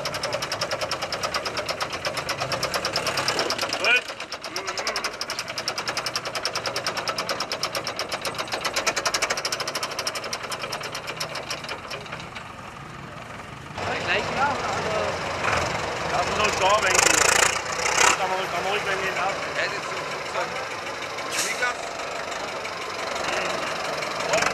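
A converted ex-NATO Hanomag vehicle, once used on the Bremgarten airfield, runs at an oldtimer meet with a busy, rattling, knocking engine note, loud and continuous, with people talking nearby.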